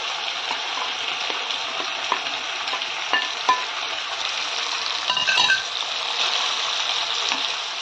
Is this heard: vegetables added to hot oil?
yes